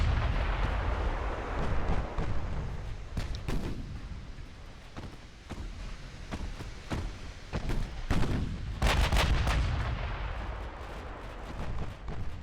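Battleship guns boom from the 1940-era fleet in the naval game Ultimate Admiral: Dreadnoughts, a rolling barrage of heavy, irregular blasts and rumbling impacts, some clustered in quick salvos, with no talk.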